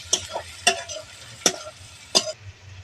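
Soya chow frying in a pan and being stirred, four distinct, evenly spaced spatula scrapes over a low sizzle, close and clear with no talking.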